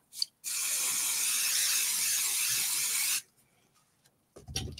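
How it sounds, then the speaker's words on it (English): A long continuous hiss of a spray paint can, steady for about three seconds, preceded by a brief rattle and followed by quiet handling noises. "let us pick up some spray"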